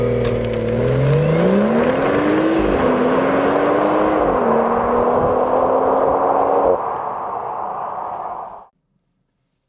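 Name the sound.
BMW 440i Gran Coupe launch control acceleration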